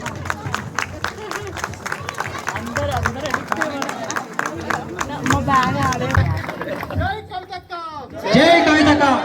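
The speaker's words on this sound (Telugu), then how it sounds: "గట్టిగా చప్పట్లు, గట్టిగా చప్పట్లు" Crowd at a Bathukamma celebration in Malta clapping and cheering, dense loud applause and chatter throughout, swelling near the end with shouting voices.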